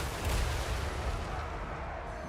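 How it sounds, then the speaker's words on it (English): Trollhammer torpedoes firing in the fantasy battle game Total War: Warhammer III, a dense, booming barrage of heavy artillery-like blasts rolling continuously under a rumbling low end. "Incoming fire on the Master Assassin from the Trollhammer torpedoes."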